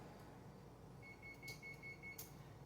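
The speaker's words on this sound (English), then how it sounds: "And that beep means my oven is preheated." A faint electronic oven beep, a thin steady tone about a second long, over a low background rumble with a couple of soft clicks.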